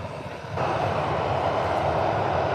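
A Ryanair jet taxis at Birmingham airport, its engines a steady, broad roar that swells suddenly after a brief quieter start and then holds loud and even.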